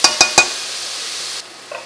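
Onions and garlic cooking in a pan while being stirred: three quick utensil scrapes against the pan over a bright sizzle that cuts off, then a faint clink.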